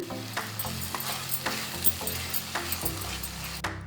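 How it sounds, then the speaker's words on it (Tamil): Steady sizzling of tomatoes sautéing in a pan for quail gravy, with a spoon scraping and stirring at irregular intervals; no voices. "இப்போ நறுக்குன 2 தக்காளி சேர்த்துக்கோங்க. நல்லா வதக்கி விட்டுக்கலாம்."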